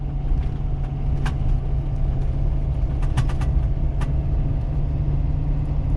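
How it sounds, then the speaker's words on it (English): A tuned Powerstroke diesel truck towing over 30,000 lbs rolls onto gravel. Its loud, steady engine drone runs throughout, with scattered crunches and ticks of stones under the tires. "now we're hitting some gravel"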